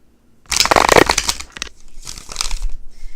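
Tarot cards being shuffled close up: two bursts of papery riffling and crinkling, one longer then a shorter one after a brief pause, with no talk.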